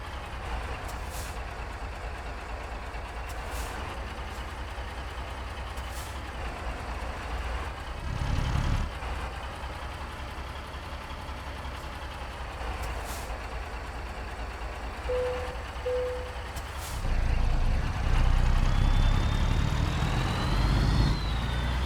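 Caterpillar 3406E diesel engine rated 2150 hp in a Mack Super Liner truck in American Truck Simulator, a steady low engine drone throughout with a brief swell near the middle and a louder rumbling rise toward the end.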